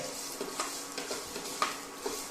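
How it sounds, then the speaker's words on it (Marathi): Okra (bhindi) frying in a pan for Goan masala bhaji, a soft continuous sizzle broken by several light stirring scrapes and taps, close and fairly quiet, with no speech. "हे पळय भेंडे बरे फ्राय केले न्ही, एक 2 मिनटां करपाचे"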